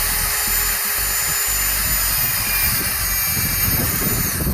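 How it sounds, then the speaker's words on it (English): Small-bit power drill boring pilot holes to mount a plaque on a cam cleat flagpole, a loud continuous high-pitched whine with steady motor noise and no pauses. "We're going to start the pilot holes with a very small drill bit."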